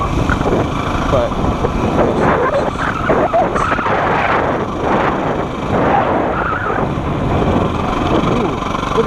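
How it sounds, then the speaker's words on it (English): Lifted Jeep churning along a muddy, puddled trail road, its engine and splashing tires forming a steady, dense rumble throughout, with people talking over it. "look at that Jeep. It's a good thing he's got it lifted to get down this road"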